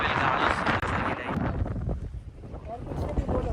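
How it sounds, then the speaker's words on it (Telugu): Strong wind roars and buffets the microphone on a Yamaha R15 motorcycle riding on a foggy open road, a loud steady rush that eases slightly toward the end while a rider talks. "ఇట్లా నెక్స్ట్ లెవెల్ గాలి వస్తుంది."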